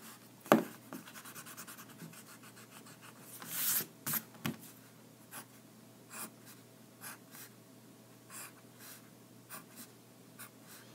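A pen scratches and taps across paper while a picture of a box is drawn by hand for a geometry lesson on points, lines and planes, in short, faint strokes with a sharp tap early on.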